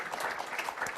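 Audience applause at a talk on the Chesapeake Bay estuary, a steady wash of clapping hands filling a brief moment at moderate volume.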